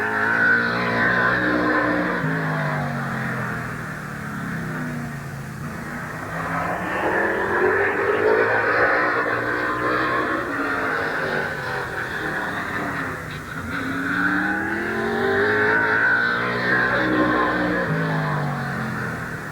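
Race car on a qualifying lap at Midvale Speedway's 1988 fall classic, car number 63, its engine roaring loud and steady with two Doppler-like swells as it sweeps past, crowd-free and continuous.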